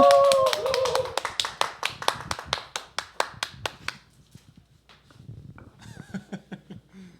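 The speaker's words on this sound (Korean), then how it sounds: "우리 박수로 맞이하도록 하겠습니다" A church congregation claps in welcome for the Sunday school children, a steady run of loud, evenly spaced claps that stops abruptly, followed by quieter scattered taps and faint voices.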